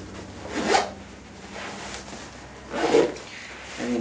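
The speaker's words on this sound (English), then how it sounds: "grab your zip, zip it all the way around." A zipper pulled all the way around a backpack, heard as a few separate rasping zips at an uneven pace, close and moderately loud, with no talk.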